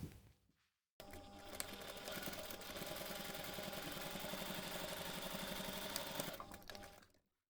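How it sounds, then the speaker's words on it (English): A sewing machine sews a seam in waterproof canvas, humming steadily at constant speed for about six seconds before slowing to a stop, close and fairly quiet, with no voices. "take this to the machine and we're going to sew the seam"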